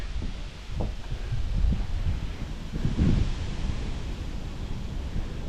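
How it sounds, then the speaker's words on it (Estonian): Outdoor wind during a long bicycle ride buffets the microphone in uneven gusts, giving a low rushing roar that swells and eases. "Mõnus tuul."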